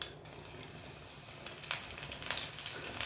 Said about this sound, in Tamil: அடுப்பில் சட்டியில் எண்ணெய் கொஞ்சம் சூடாயிடுச்சு முதல்ல கொஞ்சம் கடுகு சேர்த்துக்கிடுவோம்